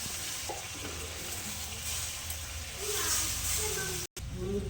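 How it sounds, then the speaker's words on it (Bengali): Spices sizzle and hiss steadily in a hot pan with bay leaves, ginger, cumin, dried red chilli and tomato paste for a Bengali cauliflower and katla fish-head curry, a close, continuous frying sound with faint stirring. "ভালো করে কষিয়ে নেব"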